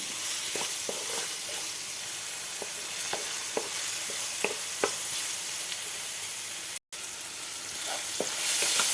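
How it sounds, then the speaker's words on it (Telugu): Cooked rice fries in a pan for fried rice, a constant close sizzle with scattered clicks and scrapes of a spatula stirring, briefly cutting out before the frying swells louder. "బాగా వేగాలి"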